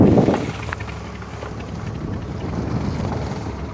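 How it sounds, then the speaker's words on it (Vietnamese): Storm wind buffets the microphone at sea aboard a small Vietnamese trawling boat as rain arrives, a heavy roaring rush with a loud gust at the start and a steady blustery wash afterward. "Rồi mưa tới luôn các bạn ơi."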